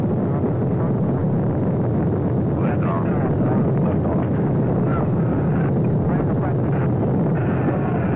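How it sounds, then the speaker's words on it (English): Rocket engines of an unmanned Apollo launch vehicle roar at liftoff, a dense, sustained low rumble heard at a distance, with a narrator's voice speaking over it. "All engines go. Liftoff auto flight."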